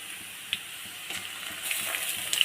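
Ground onion paste hits hot oil in a pan while cooking a shoal fish curry, a close, steady sizzle with light crackles and occasional stirring clicks, no voices.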